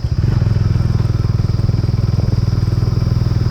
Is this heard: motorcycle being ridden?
yes